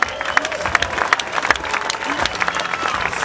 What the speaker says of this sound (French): Applaudissements encore pour eux.